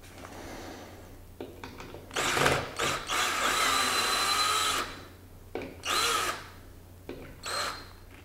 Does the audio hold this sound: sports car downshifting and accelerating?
no